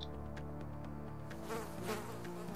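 A housefly buzzes continuously and close in the survival game 60 Seconds, a droning insect whine over a low game hum with no talking.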